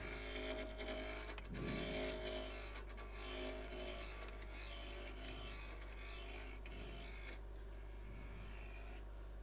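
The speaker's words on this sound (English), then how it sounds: "Put a bit of pressure on this and start the lathe again." A wood lathe spins a hollow form while a tool scrapes and rasps against the turning wood, a continuous gritty friction over a low steady motor hum, fairly quiet and close, with no talking.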